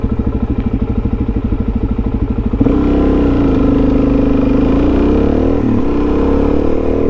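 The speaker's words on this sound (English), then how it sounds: "Please stop, semi-truck." A semi-truck passes close by, starting as a rhythmic, throbbing engine drone and swelling into a loud, sustained roar partway through, with no talk.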